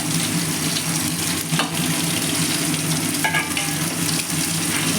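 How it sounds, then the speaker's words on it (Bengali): Cauliflower florets being mixed with spices as they fry in a pan, giving a loud, continuous hiss and sizzle with brief scraping and clatter from the stirring and no voices. "ফুলকপিগুলো ভালো করে তোমার মিশিয়ে নেওয়া হচ্ছে"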